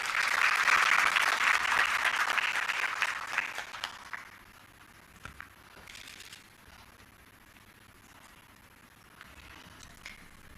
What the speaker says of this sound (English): Could you help me welcome him with a round of applause?